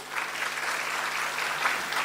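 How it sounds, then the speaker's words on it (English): Conference audience applauds a welcomed guest at an international conference on sustainable innovation; dense, even clapping from many hands that holds steady and fairly soft throughout. "A round of applause,"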